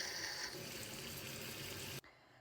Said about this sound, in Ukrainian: Зараз я буду заливати її водою, ставити на газ і доводити до кипіння.